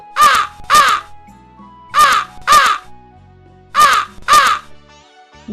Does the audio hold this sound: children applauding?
no